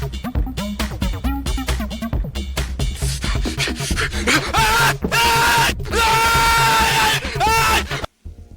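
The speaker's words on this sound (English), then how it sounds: "why'd you scream and have the server explode?" A person yells and screams repeatedly in a rapid series of loud, strained outbursts, building into longer sustained wails before cutting off abruptly.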